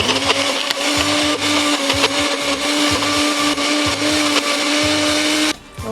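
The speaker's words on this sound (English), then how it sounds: "So I'm just going to stick it inside my NutriBullet" A NutriBullet blender purees mango in a loud, steady high-speed whir that runs continuously before cutting off abruptly near the end.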